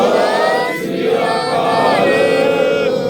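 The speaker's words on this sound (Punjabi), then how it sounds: "ਉਹਦੇ ਲਈ ਇੱਕ ਜਕਾਰਾ ਛੱਡਦੇ ਹਾਂ ਜੀ ਆਪਾਂ ਬੋਲੇ ਸੋ ਨਿਹਾਲ" A crowd at Dera Baba Nanak, gathered for flood relief service, shouts the Sikh jaikara slogan in unison, a loud, sustained chorus of raised voices close by.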